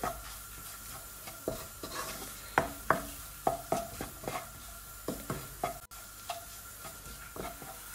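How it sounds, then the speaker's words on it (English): A curry base fries in oil over low to medium heat, a quiet steady sizzle broken by repeated spoon scrapes and clinks against the pan in uneven bursts, close and with no talking. "you want to fry this on low to medium heat for about 5 minutes"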